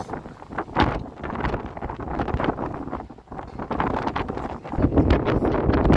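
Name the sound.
wind blowing on a cold Toronto street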